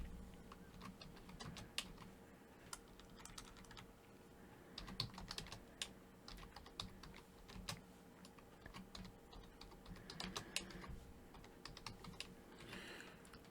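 Someone types on a computer keyboard, the keys clicking quietly and irregularly in short bursts close by in a quiet room, with no one speaking.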